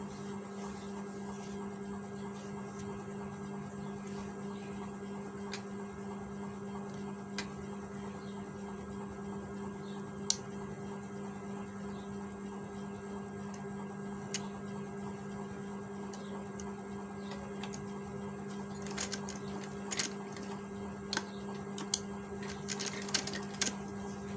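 A sewing machine hums steadily while stitching the collar placket of a men's kurta, a constant motor drone with occasional sharp ticks and clicks building toward the end.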